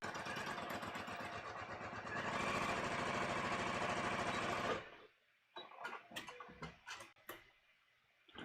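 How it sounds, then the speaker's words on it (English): A sewing machine stitches the side seams of a half-scale bodice sloper with a fast, even mechanical chatter for about five seconds. The motor then stops, and scattered light clicks and handling noises follow. "the last thing I have to do is sew the side seams"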